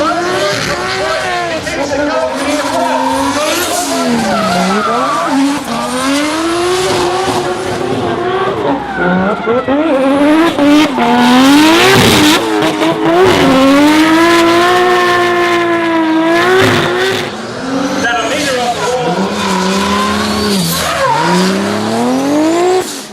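Drift race cars, including a Nissan S15 and a 2JZ-powered RX-7, at a drifting championship, engines revving hard with wavering pitch and sustained tire squeal close by, a commentator talking throughout.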